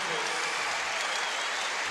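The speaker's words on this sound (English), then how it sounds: "the fans applaud the hustle play by Wayne Sheldon" Basketball fans at a college game between Texas and Kansas applaud a diving hustle play, a dense steady wash of clapping and crowd noise filling the arena for the whole moment.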